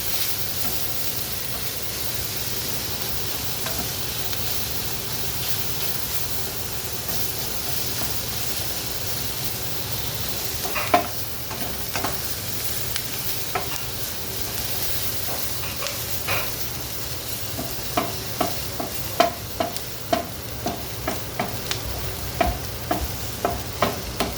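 Onions sautéing in a pan for chicken fajitas, a steady close sizzle and hiss throughout, joined midway by a run of sharp clicks and scrapes as a utensil stirs and taps the pan.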